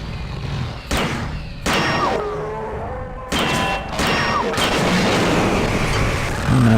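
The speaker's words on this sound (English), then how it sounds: "Alright, time for EMP grenades." EMP grenades going off in the game System Shock 2, several loud blasts with sudden onsets, each followed by crackling, whining electronic tails and game noise.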